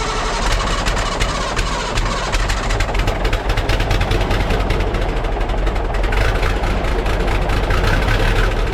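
An old semi truck's diesel engine runs loud and close, a deep rumbling idle with a rapid clattering knock that holds steady the whole time, without voices.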